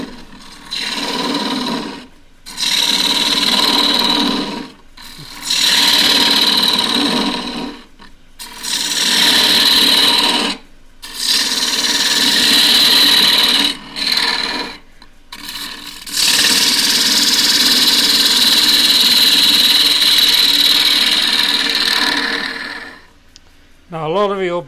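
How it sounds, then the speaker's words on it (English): Spindle gouge, half-inch, cutting a square wood dish on a lathe: repeated raspy cutting passes in bursts of a few seconds, separated by short pauses, fairly loud and close. "Right, 1/2 inch spindle gouge"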